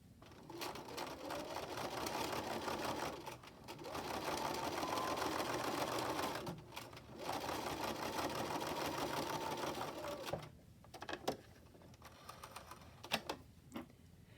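Sewing machine running long basting stitches in a fast, steady mechanical whir that stops and restarts, then gives way to a few sharp clicks and taps near the end, close up with no talk.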